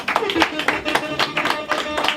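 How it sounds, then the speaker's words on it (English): Applause from a TV show audience, a run of irregular claps at close range mixed with some voices, steady for a couple of seconds. "give him a round of applause for that"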